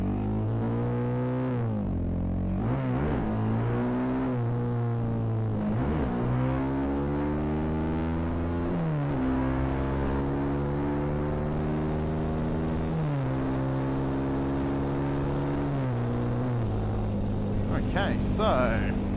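A Honda CRF250L Rally motorcycle with a MotoX exhaust is ridden continuously, its engine loud and close as it revs up and shifts through repeated rising pitch sweeps under wind.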